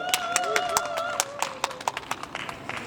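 Audience applause rings out after an acoustic steel-string guitar set at an outdoor winter music festival stage, with dense clapping that fades into scattered, uneven claps over a few seconds.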